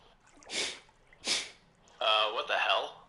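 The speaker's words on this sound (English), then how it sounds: "oh my bad, I'm about to sneeze." Two sharp, close sneezes about a second apart, each a short breathy burst, followed by a man's nearby speech.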